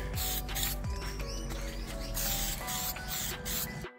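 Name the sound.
spraying a second coat onto an airflow meter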